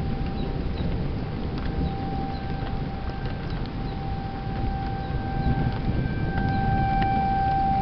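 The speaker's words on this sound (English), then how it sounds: "The tornado sirens are getting louder." Tornado sirens wail outdoors as a steady, sustained tone carried over a constant wash of rushing background noise, holding fairly even in level throughout, with no talking.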